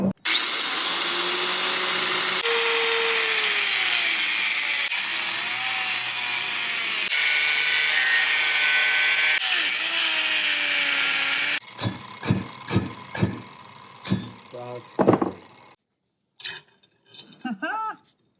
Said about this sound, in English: Now we will cut this ring and then split it.